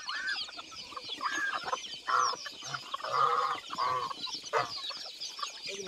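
Chickens cluck repeatedly in short, irregular bursts at close range on a farm, with steady background noise and no talk.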